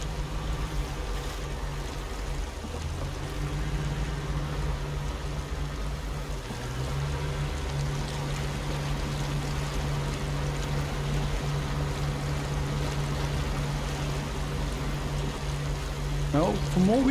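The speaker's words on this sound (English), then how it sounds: "Beautiful mountain streams." Mountain stream flowing in the Scandinavian landscape of the game Snowrunner, a steady, soft rushing of water under a low droning vehicle engine hum, continuous and fairly faint.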